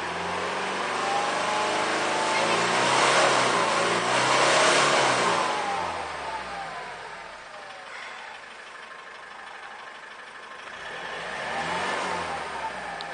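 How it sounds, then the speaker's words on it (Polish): A 2.0 D4D diesel engine in a Toyota Corolla with 196,000 km revs up, holds its speed, then settles back toward idle before rising again. Up close, steady and unbroken, with a diesel clatter under the swelling tone. "Teraz dodamy troszeczkę więcej gazu, jak to się mówi, zwiększymy obroty."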